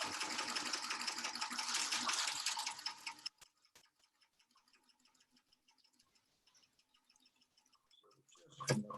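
A sewing machine stitches a seam, starting with a loud, fast burst of stitching, then dropping to quiet, sparse ticking as the fabric is slowly pivoted, and ending with a short renewed burst.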